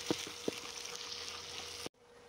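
Chopped onions fry in a pan with cinnamon, cloves and peppercorns for a Bangladeshi quail bhuna, a steady close sizzle broken by a few sharp utensil clicks before cutting off abruptly.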